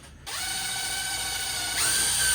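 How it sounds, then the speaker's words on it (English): A power driver sinks 1 1/4 inch screws through two pieces of wood for a DIY concrete countertop build: a steady whirring motor whine that steps up in pitch near the end, loud and close, with no talking. "So I'm going to go ahead and try and screw this thing into place."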